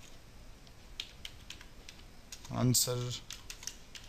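Quiet computer keyboard typing, scattered soft key taps throughout, briefly interrupted by a short spoken word near the end.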